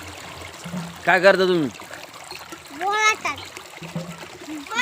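Water pours and splashes into a bucket at a village water-filling spot, a continuous trickling rush under the talk of a child and an adult.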